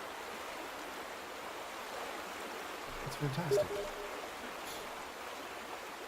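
Steady rushing flow of a stream in the video game The Vanishing of Ethan Carter, water swirling into pools, a constant wash heard throughout with a brief spoken comment partway through.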